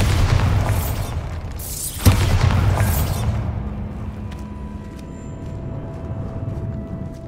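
Bombarda explosion spell cast in the video game Hogwarts Legacy, a loud booming blast with a sharp crack in the middle, fading into a quieter rumbling tail.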